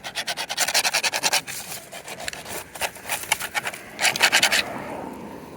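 A small MB18 die-cast model car is scraped back and forth across fresh asphalt, giving a run of quick, gritty rubbing strokes in bursts with brief pauses between them, close and moderately loud with no talking.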